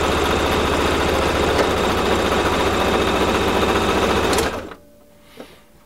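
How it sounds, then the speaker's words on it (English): A Brother XL5500 sewing machine runs a straight stitch with a loud, steady, close whirring hum for about four and a half seconds, then stops abruptly, leaving near silence with a faint click. "So we're going to start with a straight stitch and make sure we do a good back tack"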